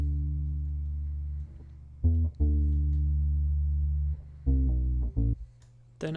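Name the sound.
guitar loop pitched down with EQ cutting the highs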